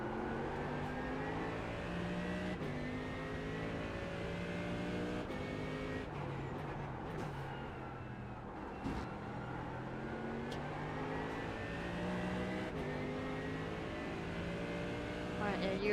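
Race car engine in a Daytona sim race, revving steadily through gear changes with repeated throttle blips on downshifts, a continuous loud drone throughout with faint talk underneath.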